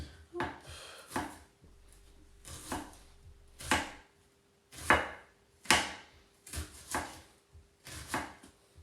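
An onion being chopped on a cutting board, a series of sharp, close knife thuds in an uneven rhythm, about a dozen distinct strikes, with no talking.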